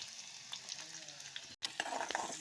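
Mustard seeds, garlic and shallots crackle and sizzle in hot oil close up, a steady frying hiss with occasional stirring scrapes.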